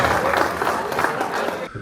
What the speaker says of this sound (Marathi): टाळ्या वाजवतात, टाळ्याला कंजूस करत नाही